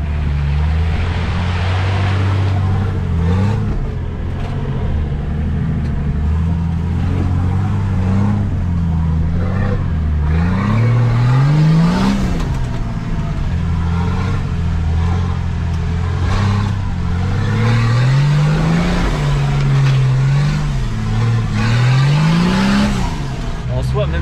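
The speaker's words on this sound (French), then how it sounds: "Même le bruit de ce moteur là est beau." A car engine revs up and down over and over, its pitch climbing and dropping in loud, continuous surges with faint voices underneath.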